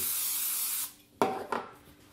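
A hand-held spray bottle mists water onto the sides of shaped bread dough in a home kitchen: a steady hiss that stops, then two short spritzes.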